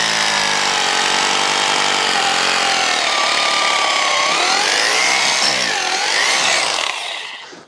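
A loud, close gas-powered auger drills a fence post hole for T-posts, its engine droning steadily and shifting in pitch as it bites into the ground, then winding down at the end.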